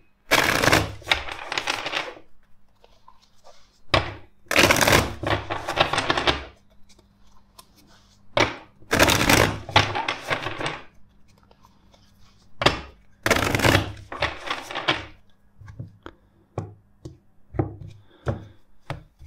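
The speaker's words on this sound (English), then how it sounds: "first let's shuffle the deck four times" A deck of tarot cards is shuffled four times, each shuffle a close, dense burst of crisp riffling and flapping about a second long, separated by quieter pauses with small taps and clicks.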